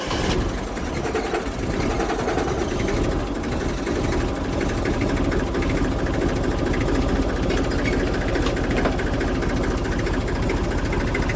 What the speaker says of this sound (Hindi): ट्रैक्टर स्टार्ट करके